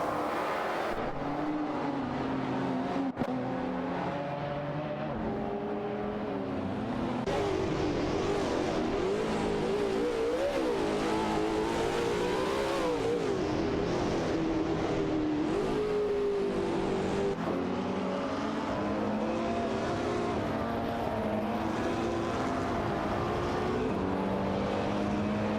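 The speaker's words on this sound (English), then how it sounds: "Both cars are pushing hard as they vie for the advantage, maintaining close proximity on the track" Race car engines from a Ferrari 405 and a Radical RXE in a racing video game, both high-pitched and revving continuously with shifting pitch as they run close together, loud and steady with no talk.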